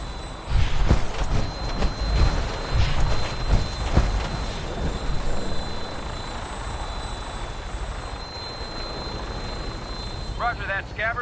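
Vertibird aircraft thrusters from Fallout 4 drone as a steady, rumbling engine roar that fills the whole stretch, with radio chatter over it at the start and a few chirpy tones near the end.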